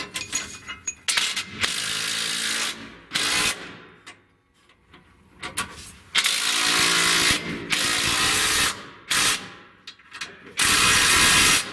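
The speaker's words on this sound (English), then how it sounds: "I was working with the wrong size socket here the whole time." A ratchet socket wrench clicks in long, loud bursts of fast pawl ratcheting broken by short pauses, working on a Ford Powerstroke diesel F-250 close up.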